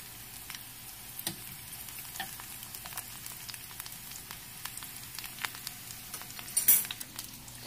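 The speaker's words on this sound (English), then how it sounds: "now we're gonna take it on over to our onions and green peppers, which are sauteing beautifully" Onions and green peppers sauté in a pan with a soft, steady sizzle and scattered faint crackles, fairly quiet and without voices.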